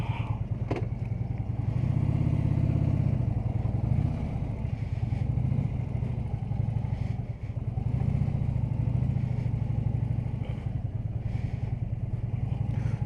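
Harley-Davidson Electra Glide motorcycle cruising on a road trip, its engine a steady low rumbling drone heard close from the rider's position, swelling slightly as it pulls, with wind noise over the top and no talk.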